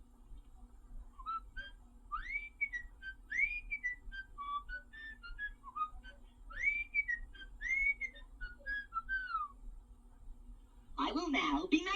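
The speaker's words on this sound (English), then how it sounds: "I will whistle this tune for you." A restored 1978 Mego 2-XL toy robot whistles a short TV tune, clear tonal phrases rising and falling over a faint hum, ending with a brief burst of crackling noise.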